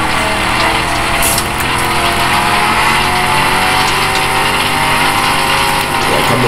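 Racing car engines in the video game FlatOut 2 drone loudly and steadily throughout, a continuous dense roar of several cars at speed with no talking.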